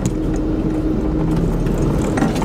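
A truck rolls along a dirt road, giving a continuous close, rough rumble of engine and tires crunching over the ground, with faint rattles and no speech.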